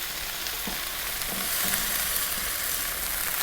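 Steady, close sizzling and crackling of broccoli and tofu frying in a hot pan over high heat with soy sauce and a little water, with faint stirring clinks underneath.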